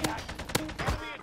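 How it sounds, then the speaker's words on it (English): An AK rifle fires a few sharp, close shots in the Warzone video game within a brief burst of action, with a player's voice mixed in. "This AK is insane."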